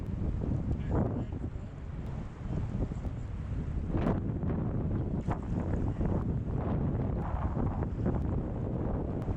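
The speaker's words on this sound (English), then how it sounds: "This wind is sort of like a mist fall." Strong wind gusting along the Middle Fork Salmon River in Idaho, a steady low roar with buffeting rumble against the microphone throughout, loud and close, with no talking.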